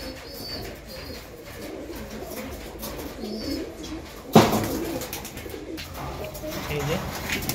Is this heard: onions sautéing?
no